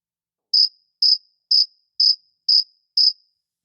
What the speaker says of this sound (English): I feel like a cricket sound should be like inserted right there after you read that